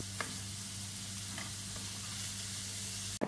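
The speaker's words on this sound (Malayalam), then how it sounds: "ഒരു ലോ ടു മീഡിയത്തിൽ വെച്ചിട്ടാണ് സവാള ഒന്ന് വഴച്ചെടുക്കേണ്ടത്" Onions sautéing in a pan on low to medium heat make a soft, even sizzle with a few faint clicks and one sharp knock near the end, and no one speaks.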